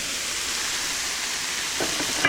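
Shrimp with shiitake and oyster mushrooms stir-frying in a hot skillet, a steady close sizzle with light scraping of stirring near the end.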